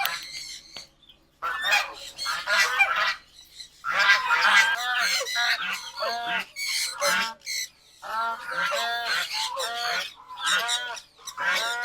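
Farm ducks honk and squawk loudly in dense, overlapping bursts across the whole stretch, close by, with brief pauses between rounds of calls.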